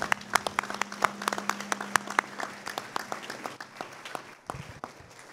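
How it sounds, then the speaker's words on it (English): An audience at a school board meeting claps for honored students in a round of applause of moderate density, close and steady, before tapering off near the end. "Can we have one more round of applause for these awesome students?"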